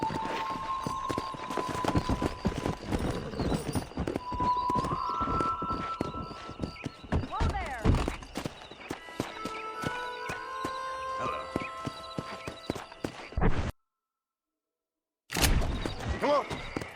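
Horses gallop with a steady clip-clop of hooves and let out a couple of whinnies in the Red Dead Redemption video game, under game music and ambient sound, with talk in the background; a sudden silence near the end before sound resumes.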